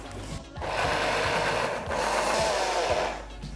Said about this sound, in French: Et on va mixer tout ça.